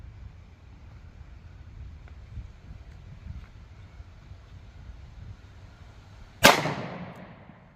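A single sharp, loud report from a 2-inch revolver firing .38 Special Federal Punch 120gr +P ammunition, cracking out suddenly after a stretch of quiet wind-like background and trailing off in a short decaying echo.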